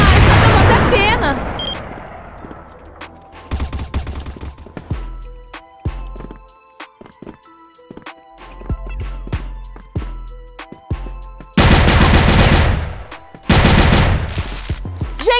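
Rapid, sharp gunshots in a shooter video game using an AWM sniper rifle and a Colt, sounding as separate cracks and quick clusters with loud bursts near the end, while a voice talks over parts of it.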